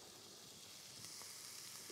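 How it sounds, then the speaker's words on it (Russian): Onions frying with garlic in a pan give a soft, steady sizzle, quiet and continuous with no talking. "Лук обжаривается. Добавлю к луку немного чеснока."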